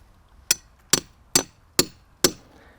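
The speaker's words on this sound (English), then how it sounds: "hit it 4 or 5 times until you hit the heartwood" A hammer drives a sharpened wood chisel into a tree trunk for grafting: five sharp, evenly spaced strikes, each a bright ringing knock that decays quickly, close up and alone.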